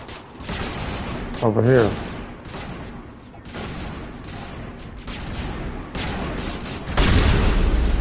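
Gunfire in the video game Ninjas in Space, scattered bursts and booms of shots at varying distances, with players talking over the action.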